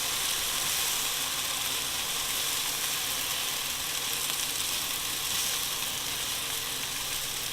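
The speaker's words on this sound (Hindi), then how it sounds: "ये मसाला भी थोड़ा सा फ्राई हो गया है" Masala-stuffed eggplants fry in a pan, giving a dense, continuous sizzle at an even level for several seconds, close and with no voices.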